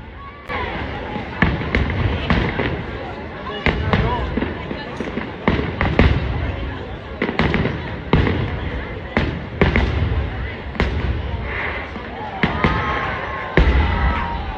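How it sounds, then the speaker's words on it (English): A National Day fireworks display near Vaduz Castle in Liechtenstein fires a rapid series of loud booms and crackling bursts, irregularly spaced, with a crowd murmuring and cheering between the blasts. "Near Vaduz Castle, the National Day concludes with a breathtaking 30-minute fireworks display."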